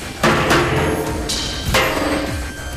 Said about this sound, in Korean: 이번에는 대놓고 망치로 공격을 가하기 시작한다.